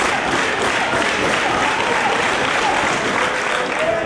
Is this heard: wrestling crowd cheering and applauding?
yes